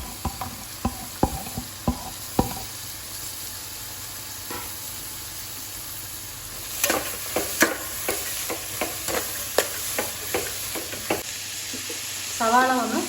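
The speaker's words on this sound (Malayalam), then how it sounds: "ഇനി ഇതിലേക്ക് കട്ട് ചെയ്ത് വെച്ചിരുന്ന സവാള ഒന്ന് ചേർത്ത് കൊടുക്കാം." Chopped onions frying in oil for bread chili, a steady close sizzle broken by repeated scraping stirs and spoon clacks against the pan, busier toward the end.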